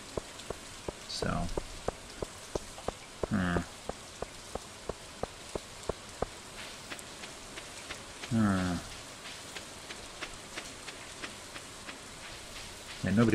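Rain falling in the Stardew Valley video game, a steady patter with sharp drop ticks throughout, and a few brief louder bursts.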